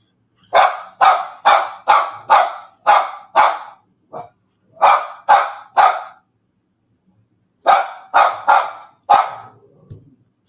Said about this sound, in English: So we have some barking going on here.